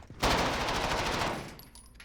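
A video game gun is fired from the hip in a fast burst of rapid automatic shots that blur into a dense, loud crackle, then cut off with a brief tail.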